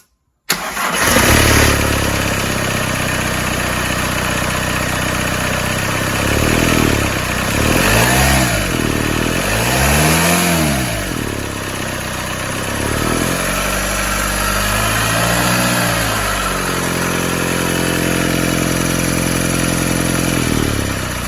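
The diesel engine of a Volkswagen T4 Transporter van converted to TDI cranks and fires up, then settles into a steady, loud clattering idle with a few revs rising and falling.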